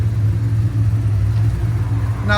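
A cammed Chevy Camaro SS with headers, a full DYNOMAX race bullet exhaust, X-pipe, 2.5-inch system and 5-inch tips idles with a loud, choppy, lumpy rumble, pulsing unevenly up close.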